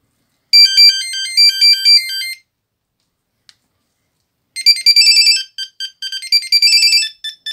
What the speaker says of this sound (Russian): Nokia Tune.